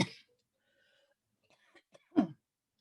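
A person coughs during a talk: one sharp cough at the start, then a few smaller throat sounds and a stronger cough near the end, in an otherwise quiet room.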